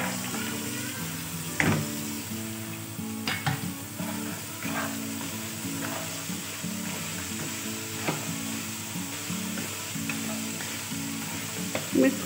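Carrots frying with spices in a pan are stirred repeatedly: a continuous close sizzle overlaid with regular scraping and clinking spoon strokes throughout.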